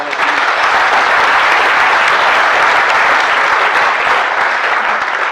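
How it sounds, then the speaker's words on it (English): Steady, full applause from a large audience at a bird photography awards ceremony, loud and continuous throughout with no pause. "But let's have a little round of applause for Jose."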